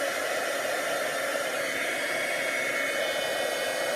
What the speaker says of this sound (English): so now we're going to emboss. And I got my embossing tool here.